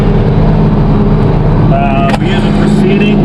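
A 986 tractor works a hay field under plowing load, its engine giving a loud, steady, close drone throughout, with a few brief higher whine-like tones riding over it partway through.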